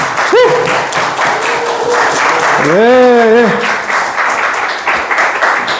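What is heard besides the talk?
audience applause welcoming author at book concert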